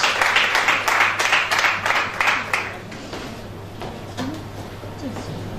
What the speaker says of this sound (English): A round of applause for Mrs. Ukechi Ali Balogu as she comes.